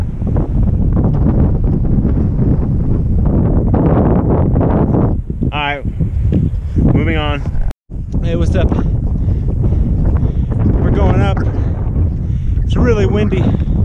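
Heavy wind on a mountain in Great Smoky Mountains National Park buffets the microphone in a steady, loud roar, with a person's voice breaking through now and then beneath the gusts.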